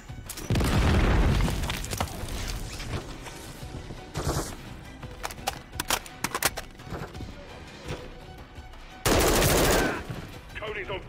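A heavy C4 blast and rumbling booms in Call of Duty: Modern Warfare 3 open the scene, followed by scattered sharp gunshots and a second loud explosion near the end.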